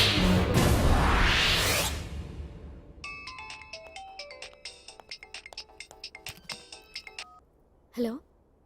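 A phone rings with an electronic ringtone in a comedy scene, a rapid run of tonal beeps following loud rushing noise and voices, then a short voice at the end.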